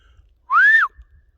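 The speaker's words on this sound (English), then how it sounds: "We're hearing a lot of whistles coming just beyond line of sight over there." A single clear whistle, a short rising-then-falling tone lasting under half a second, carried from somewhere outdoors out of view, loud against an otherwise quiet backdrop.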